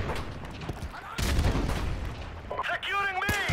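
A grenade bursts in Call of Duty: Modern Warfare Remastered multiplayer, one loud blast amid scattered gunfire, followed by a voice speaking.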